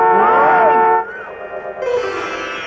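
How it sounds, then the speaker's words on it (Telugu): A train horn blares loudly and close for about a second, then drops to a lower, wavering drone with rail rumble beneath it. "ఇదిగో హార్న్ కొడుతుంటే వినిపించట్లా?"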